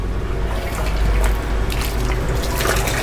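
A 12V DC submersible pump runs on battery power and discharges water in a steady, continuous splashing gush that stays fairly loud and even throughout, with no talking.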